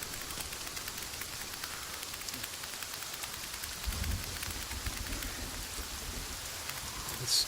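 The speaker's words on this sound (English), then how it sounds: "This rain is so loud, I can't even hear myself." Heavy rain pours steadily in a video game, a dense broadband hiss that stays loud and close throughout, with a soft low rumble midway and a brief sharper patter near the end.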